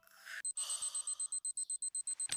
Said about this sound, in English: Keep your alarm clock on your bed?